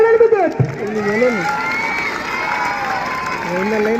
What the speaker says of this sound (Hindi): तालियों के साथ स्वागत कर रहे हैं धनवार के सभी समर्थक नयन का